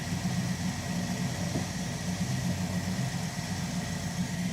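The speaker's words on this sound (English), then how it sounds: "Let me adjust the fast idle a little bit." Dodge Charger crew cab engine at fast idle, a steady, close mid-low rumble with even pulsing and no change in speed, running alone.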